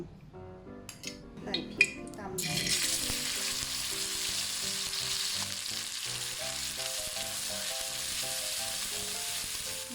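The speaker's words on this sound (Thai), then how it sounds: "เราใส่น้ำมันหมูนะ น้ำมันหมูเจียวเอง" Home-rendered lard hitting a hot pan while cooking a southern Thai lemongrass chili paste: a few utensil clinks and knocks, then a loud, steady, close sizzle that continues to the end.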